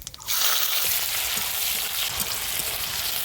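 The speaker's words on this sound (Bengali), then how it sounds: "কেটে রাখা পেঁয়াজটা দিয়ে দেবো।" Chopped onion dropped into hot oil with mace, cloves, bay leaf and sugar, cooked as the base for a catfish curry. A loud, steady sizzle starts abruptly and then holds close up.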